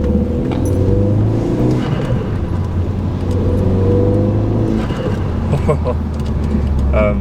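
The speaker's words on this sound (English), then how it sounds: "these little reset blow off valve things, man, sound mint" A Renault Megane RS engine idles and revs steadily, with short hissing whooshes of a blow-off valve near the end; someone talks over it.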